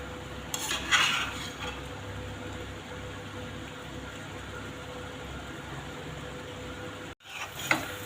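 Chicken roast is stirred in a pan with a spatula. There is a soft background sizzle with a few scraping and clinking strokes near the start and again at the end, all quiet and close.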